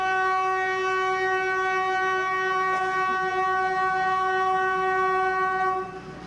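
A train on an Indian railway sounds a long, steady horn blast close by, holding for several seconds before cutting off abruptly, with faint rolling noise beneath.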